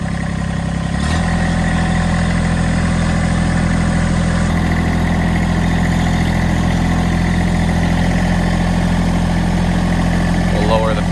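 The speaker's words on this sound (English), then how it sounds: "So I'm gonna lift that front end loader a little higher" A tractor engine runs steadily while its front end loader is raised, a constant loud mid-low drone at an even pitch throughout, with someone talking over it.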